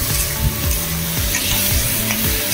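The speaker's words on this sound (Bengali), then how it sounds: "স্বাদ মতো লবণ দিয়ে আমি ভালো করে একটু ভেজে নেব।" Potatoes fry loudly in a pan with chili powder, vegetable masala, cumin, turmeric and salt, giving a dense, continuous sizzle that is close and stirred throughout.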